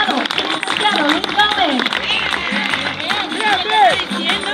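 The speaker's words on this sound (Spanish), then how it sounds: "Que se siente ese aplauso para nuestro diputado, el próximo diputado, licenciado Luis" A rally crowd claps and cheers for a deputy candidate, Luis Gómez, with steady applause running under a loud voice speaking over it.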